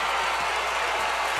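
A crowd at a Bethel Bruins vs. Woodbridge Vikings basketball game applauds and cheers, a dense, loud, continuous roar filling the gym.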